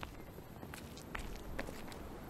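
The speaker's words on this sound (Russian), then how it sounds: "Такой звук, как будто где-то рядом топчется еще кто-то, помимо меня." Soft, irregular footsteps shuffle and stomp faintly nearby in the horror game Lunacy: Saint Rhodes, a few scattered thuds over a quiet, hissy ambience.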